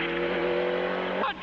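Tony Kelly's Ford Escort Cosworth rally car on a stage at the 1998 Cavan Stages Rally, its engine holding a loud, steady high-revving note before cutting off abruptly near the end.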